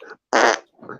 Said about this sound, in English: There needs to be more farts in the show.